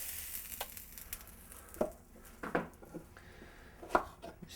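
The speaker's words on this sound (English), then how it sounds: "Just cut it up in small pieces." A knife cutting cantaloupe into small bite-size pieces, a few soft separate chopping taps against a board over a faint background hiss.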